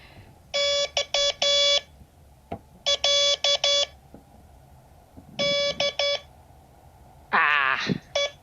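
Morse code practice tones from a class, sending the letters D and E: three groups of short and long steady beeps, each group separated by a pause, with a brief voice at the end.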